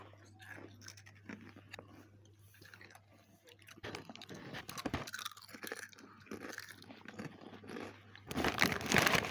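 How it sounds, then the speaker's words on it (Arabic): Crunchy Forno potato chips being eaten up close, with irregular crisp crunches and chewing that grow louder toward the end and a faint steady hum underneath. "يا جماعة سمعين صوته كيف عم بيقرمش؟ واه مقرمش."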